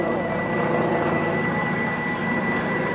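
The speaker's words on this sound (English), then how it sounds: "John Mrazek in that big, beautiful Harvard Mark IV." A Harvard Mark IV airplane rolls across show center at an air show fly-in, a continuous droning propeller engine with a steady tonal whine, loud and sustained throughout.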